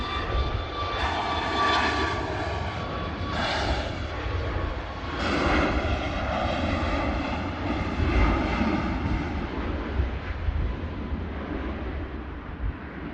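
Ryanair Boeing 737-8200 departing from Manchester Airport, a steady jet engine roar swelling and rumbling from a distance with no talk.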